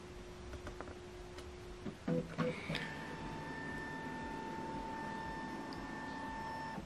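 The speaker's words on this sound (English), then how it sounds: "and it's scanning the second page" An Epson printer scans a page, starting with clicks and mechanical shifts, then settling into a steady, fairly quiet motor whine with sustained tones as the scan head travels.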